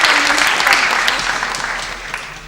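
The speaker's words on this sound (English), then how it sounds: "Please let's give him a round of applause." A seated audience at an afternoon debate session claps for a visiting honorable guest, a loud close burst of applause that gradually thins out over a couple of seconds.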